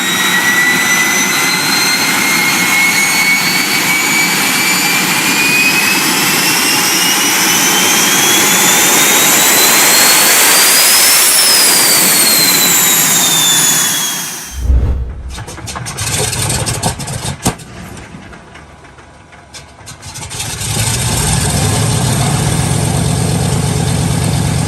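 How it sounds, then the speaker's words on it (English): A Rolls-Royce Derwent jet engine runs loud and close with a rising turbine whine and roaring rush, then cuts abruptly to a lower rumbling idle that dips and swells back up. "the Derwent achieved legend status powering the Gloucester Meteor, the Allies' only operational jet fighter"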